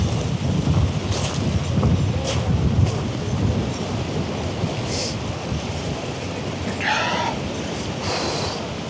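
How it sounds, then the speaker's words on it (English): Strong gusty wind roars steadily outdoors in spring snow in Toronto, buffeting loudly with a deep rumble and a few brief higher sounds on top. "The wind is insane."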